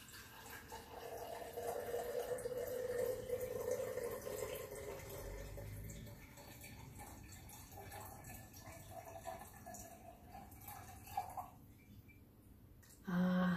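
Liquid pours from a green container into a measuring jar, a soft continuous trickle and splash that thins toward the end, fairly quiet, with faint background noise and no clear speech.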